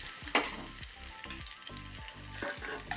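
Curry leaves fry in a pan of oil for pappadam chutney, giving a brisk, close sizzle with repeated crackling bursts and light stirring scrapes throughout.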